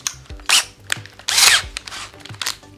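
A drill drives a screw to mount a roller blind in short bursts, three or four quick whirring pulses separated by brief pauses, close and fairly loud.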